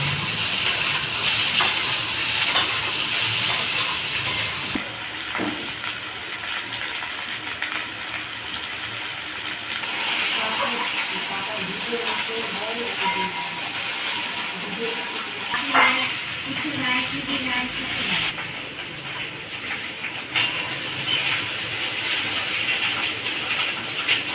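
A curry of arum root and potato, cooked without onion or garlic, fries in a pan, giving a steady sizzle broken by stirring scrapes and clinks over a long stretch.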